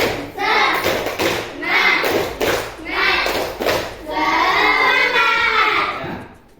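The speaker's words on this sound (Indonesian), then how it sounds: "Coba semuanya, tepuk semangat." Schoolchildren perform a rhythmic group clap in a classroom, loud bursts of synchronized claps and thumps in a patterned beat, with children's voices chanting along.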